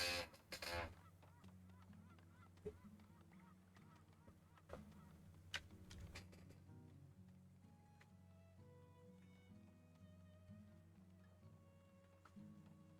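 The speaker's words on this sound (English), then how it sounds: "There goes the geese south for the winter" Geese honk in the Nilfheim video game, a flock calling in quick repeated honks over a soft tonal game music bed, with a few louder thumps early on and the honking fading in and out.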